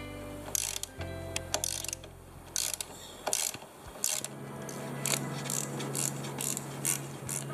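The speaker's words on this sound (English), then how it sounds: "now we can get a tool and tighten them in" A ratchet tool tightens the front fork caps on a Honda NC700X/NC750X motorcycle, giving close, loud bursts of rapid pawl clicking in repeated strokes with a brief low hum between.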